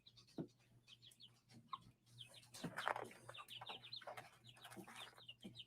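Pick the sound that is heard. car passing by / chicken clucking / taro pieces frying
chicken clucking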